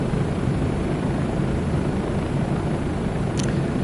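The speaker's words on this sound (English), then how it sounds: "you have to remember this helicopter is not that fast" A Bell 407 helicopter in Microsoft Flight Simulator 2024 flies with a steady, dense rotor and turbine drone that stays loud and unchanging throughout, heard from inside the cabin.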